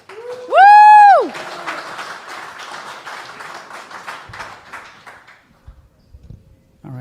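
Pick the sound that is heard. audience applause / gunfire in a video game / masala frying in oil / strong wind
audience applause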